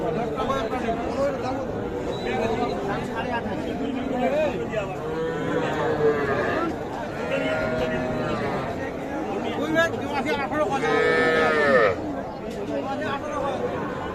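Calves and cattle low now and then through the busy chatter of a crowded cattle market, their moos moderately loud and mixed with people talking all around.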